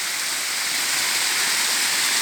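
Water pours over a village dam in a steady, loud, broadband rush, continuous and unbroken with no voices.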